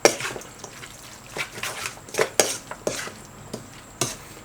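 A spoon stirs a spicy frog salad dressed with roasted chili flakes in a bowl, a run of irregular clinks and scrapes against the bowl, close and clear with no talking.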